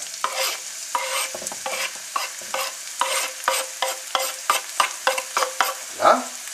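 Green onion sautéed for banh bot loc ravioli filling in five spoonfuls of hot oil over high heat: a steady close sizzle broken by repeated scraping stir strokes, with no voices.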